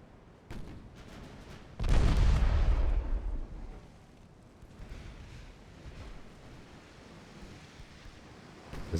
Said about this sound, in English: There we go, bow torpedo going out.